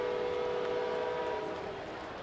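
A train horn blares steadily, loud and sustained through the whole stretch near a ballpark during a July baseball game, with no talk over it.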